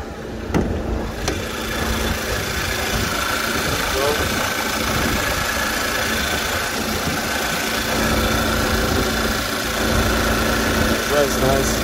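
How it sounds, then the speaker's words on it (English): A 2012 Volkswagen Jetta GLI with a six-speed manual idles steadily nearby, giving a continuous low engine hum and a faint rhythmic knock while someone talks over it. "Car's running, you can hear."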